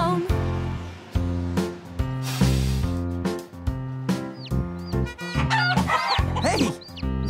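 Chicken clucks are part of a bouncy children's nursery-rhyme song about the wheels on the bus. Short, squeaky cluck sounds pop up over loud, steady backing music, growing busier toward the end.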